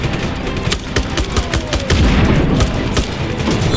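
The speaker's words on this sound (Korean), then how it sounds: "수류탄!" Grenade blast in the Just Cause 3 PC game, heard amid dense rapid gunfire and booming impacts, a loud, continuous barrage of thuds and cracks.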